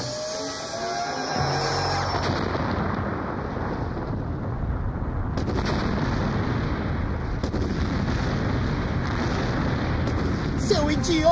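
In an animated adventure series, a heat-seeking missile detonates near an active volcano. It sets off a sudden blast that rolls into a loud, sustained, thunderous rumble.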